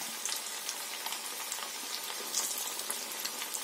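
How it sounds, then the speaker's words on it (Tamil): Stuffed potato pieces deep fry in hot oil over a low flame, giving a dense, even hiss and fine bubbling crackle with small pops throughout, close and continuous, no voices. "இப்போ இதை நம்ம அதில் ஒன்று ஒன்றா போட்டு பொறிச்சு எடுத்துடலாம்"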